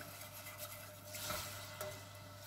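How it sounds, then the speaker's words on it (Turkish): A whisk stirs milk into toasted flour in a pan, a soft continuous swishing and faint sizzling throughout, fairly quiet with a brief louder swirl midway. "Hemen de bir çırpıcıyla karıştıralım"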